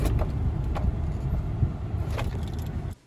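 Car driving during a test drive of a used vehicle, a steady engine and road rumble heard from inside the cabin with a few faint clicks and knocks, cutting off abruptly at the end.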